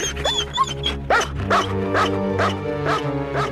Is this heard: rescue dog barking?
yes